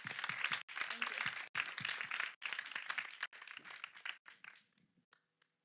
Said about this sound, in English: So I really ask you to give a round of applause to them.